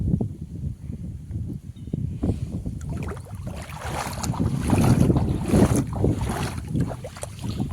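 Fast-flowing irrigation water rushes through a farm field of garlic, chilli and onion, a loud, churning turbulent roar that swells toward the middle, mixed with wind buffeting the microphone.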